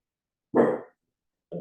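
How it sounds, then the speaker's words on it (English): Dog barks twice, close and loud: one full bark, a short pause, then a second shorter bark, set against an otherwise silent room. "shush, Benny, stop barking."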